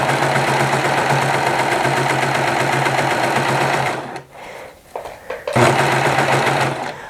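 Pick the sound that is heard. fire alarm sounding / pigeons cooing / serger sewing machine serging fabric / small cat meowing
serger sewing machine serging fabric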